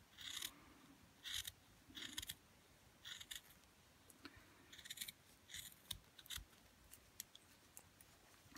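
Scissors snip through a fabric glove to cut off a finger for doll leggings. Faint close crisp snips come in quick clusters of several cuts with short pauses between them, and no one talks.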